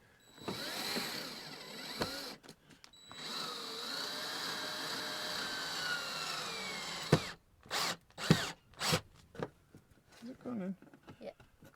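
A power drill driving small self-tapping screws into a campervan sliding door, with long steady whirring bursts followed by short stop-start pulses, close up, with a person talking in between.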